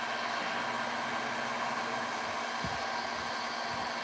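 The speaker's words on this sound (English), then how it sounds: "I'm gonna move this heat gun away from myself because I will burn my leg" Steady, loud whooshing of hot air from a heat gun, a constant broadband hiss with a faint low hum, continuous throughout.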